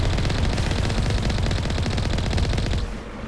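Continuous rapid automatic gunfire from the Mass Effect 1 video game, a dense, loud, steady burst for about three seconds that then drops away into quieter game ambience.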